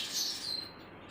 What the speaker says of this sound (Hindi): चहचहाट हो रही है।